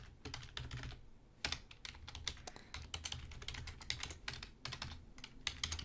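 Rapid typing on a computer keyboard while entering a web address, with clustered bursts of key clicks, a short pause, then steady close-up tapping throughout.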